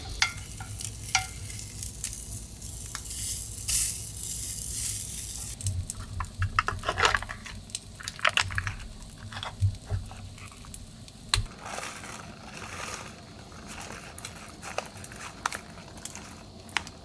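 Two sausages frying in a pan at an outdoor camp breakfast, with a steady sizzle and crackle broken by repeated scraping and stirring clatters, close and fairly loud.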